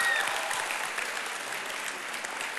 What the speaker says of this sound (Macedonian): Ова заслужи аплауз, нели?